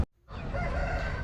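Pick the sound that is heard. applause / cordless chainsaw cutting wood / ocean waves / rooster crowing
rooster crowing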